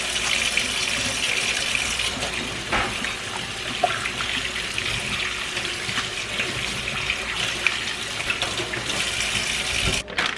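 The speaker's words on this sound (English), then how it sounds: "I'm gonna wash my hands." Tap water runs steadily into a kitchen sink while hands are washed during home cooking, a continuous close hiss and splash with small irregular spatters throughout.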